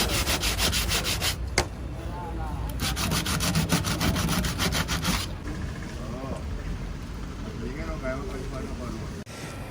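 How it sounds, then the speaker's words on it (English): Body panels of a crash-damaged Toyota GT 86 being sanded before filler, giving a loud, steady abrasive rubbing that runs in long strokes and pauses briefly, close up, with faint voices in the background. "Before applying the filler, the guys had to sand down all the areas that needed work"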